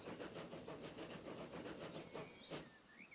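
A train rolls along rails in the video game Transport Fever 2, a steady rhythmic clatter of wheels over track joints with a hissing background and a brief high whistle-like squeal near the end, faint and alone.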